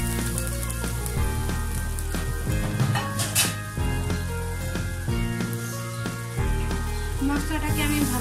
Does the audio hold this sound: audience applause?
no